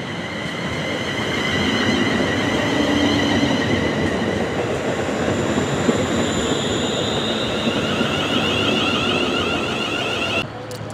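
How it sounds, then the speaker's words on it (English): A four-coach London Northwestern Railway Class 350 electric train, unit 350238, runs through Telford Central toward Birmingham New Street, a loud, sustained rolling rumble with rail hum and faint wheel squeal that fades slightly near the end. "There goes 350-238, working East London North Western Railway service to Birmingham New Street"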